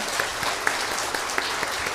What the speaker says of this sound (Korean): 한번 우리 박수 마음 보내겠습니다